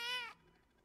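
A single short, bright cat meow, faint and close, cuts off abruptly and leaves near silence.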